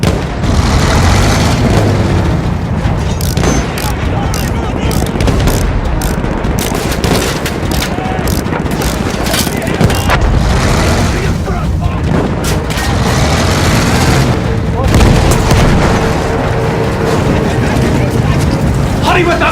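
A loud, dense World War I battle in Battlefield 1, with booming artillery, machine-gun bursts and rifle shots merging into a continuous roar, while soldiers' voices shout over the chaos.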